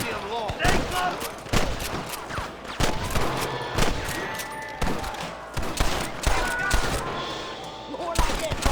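Rapid gunfire in a western video game shootout, with dense overlapping shots and sharp cracks throughout, loud and close, mixed with shouted voices.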